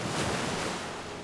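Ocean surf on California's rugged Lost Coast, a brief, full, steady wash of breaking waves with some wind noise and no voices.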